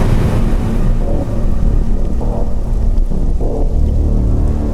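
Heavy rain pours steadily at night, mixed with deep, rolling thunder rumbles, loud and close with no voices.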